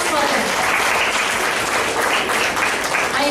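A school audience gives a steady, dense round of applause for a children's dance performance, the clapping loud and sustained throughout without a break.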